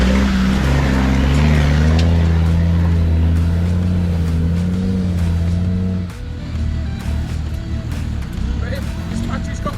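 A 4x4 truck crawls up a rough green lane in North Wales, its engine a steady low drone that dips slightly after a few seconds, with people talking over it.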